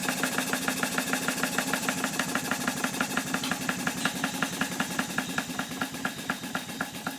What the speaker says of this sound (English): Once I speeded up the engine, it developed a pronounced knock.